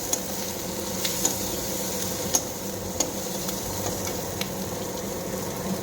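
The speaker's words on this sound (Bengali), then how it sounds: "পেঁয়াজটা একটু লাল লাল করে ভেজে নেবো" Onions frying in a pan for a spicy puti fish curry, giving a steady close sizzle broken by a few sharp clicks of stirring.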